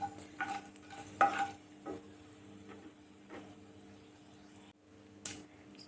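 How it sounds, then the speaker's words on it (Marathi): Spices and a ground paste for dum aloo stirred in hot oil in a pan, a soft scraping spoon rhythm over a quiet sizzle with a few sharper knocks against the pan. "छान आपल्याला व्यवस्थित मिक्स करून घ्यायचं आहे"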